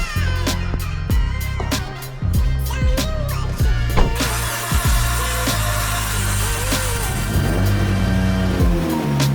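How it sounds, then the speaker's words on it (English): A Mitsubishi Evo 8 pulls out of a home garage, its engine idling and revving with rising and falling tones, accompanied by clunks and rattles close to the microphone. "I'm gonna go ahead and move the Evo out."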